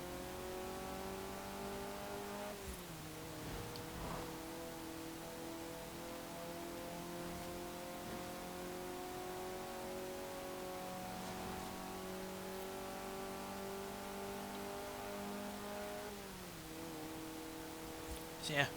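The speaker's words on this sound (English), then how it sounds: "it's a naturally aspirated engine, and it also revs nicely as well" A 1993 Renault Clio Williams with a naturally aspirated engine in Forza Horizon 4 drones steadily at mid revs, with rising and falling pitch sweeps as it shifts through gears, loud and continuous without talk.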